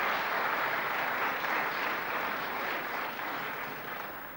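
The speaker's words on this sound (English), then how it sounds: "The applause says it all." Sustained audience applause in a snooker arena after a century break at the 1992 Grand Prix. It forms a steady, dense wash of clapping that eases slightly toward the end.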